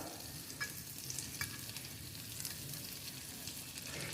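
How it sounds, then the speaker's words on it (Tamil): A small knob of butter melts in a well-heated pan, giving a faint, steady sizzle and hiss with a few light crackles throughout, no voices. "நான் ஒரு பேனில் நல்லா ஹீட் ஆக்கியிருக்கேன். நான் கொஞ்சமாக பட்டர் எடுத்துக்கிறேன்."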